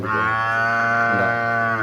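Native dwarf cows at a Kerala cattle market give a long, loud, droning moo that holds steady for about two seconds, close to the listener and with no talk over it.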